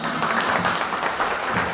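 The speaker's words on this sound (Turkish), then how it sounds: "Gerçekten güçlü bir alkış gelsin onlara." An audience at a Turkish engagement gathering claps together, a dense, steady patter of many hands sustained evenly across the moment without pauses.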